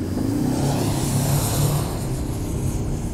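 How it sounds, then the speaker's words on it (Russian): A 2021 Toyota Land Cruiser Prado accelerating, its engine giving a steady broadband hiss in place of a roar, sustained and fairly loud from inside the vehicle. "Такое шипение вместо нормального рева двигателя."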